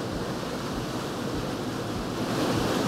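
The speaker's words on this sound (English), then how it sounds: "A little tiny fall on the left-hand side just trickling over the edge." Small waterfall trickling over a rock edge into a dark pool, heard as a steady, even rush of flowing water with no talking.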